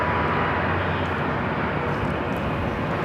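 A Frontier A320neo jet rolls for takeoff on runway 24 left at LAX, a loud, steady engine roar filling the whole stretch without pause.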